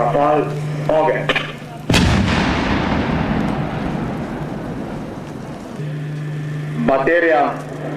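Live-fire military exercise where a single heavy artillery salvo cracks out loud and near, then decays into a lingering rumble; a voice calls out before the blast and speaks again afterward.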